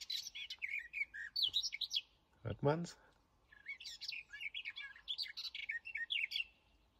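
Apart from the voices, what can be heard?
birds singing in the morning in the Harz forest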